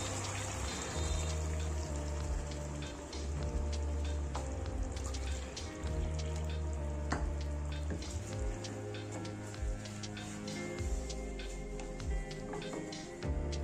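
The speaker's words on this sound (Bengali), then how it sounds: "এবারে জল দেব পরিমাণ মতো।" Chicken sizzles and bubbles in a hot pan after water is poured in for a Bengali chicken kosha, a dense crackling simmer with scattered sharp pops and spits, fairly quiet and steady with no speech.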